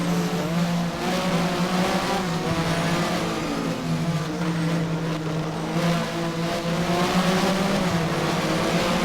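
Porsche Super Cup race cars in the Race07 video game at Brno, running nose to tail with a steady, loud, droning engine roar and shifting tones throughout, no voices heard.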